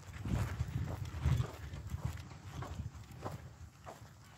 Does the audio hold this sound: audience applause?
no